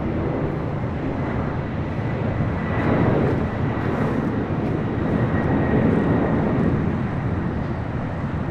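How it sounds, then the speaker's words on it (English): A Fiji Airways Airbus A350 arrives at LAX, a loud, broad engine roar that swells slightly in the middle and holds steady for several seconds. "Fiji Airways, the A350 coming up from Nandi. Arriving a little late here today."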